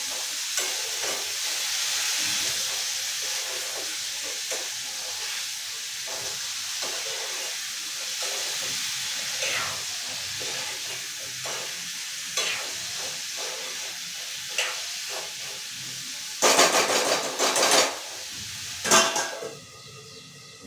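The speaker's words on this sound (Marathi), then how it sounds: "आता त्याच्यामध्ये मी टाकते भाजी." Vegetables frying in a pan in a home kitchen, a steady hiss of sizzling with scattered stirring and utensil clinks, louder metallic scrapes near the end.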